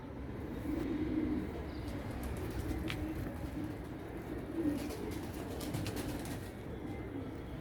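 Soft pigeon cooing repeats at intervals over a low, steady background rumble, fairly faint and with no talking.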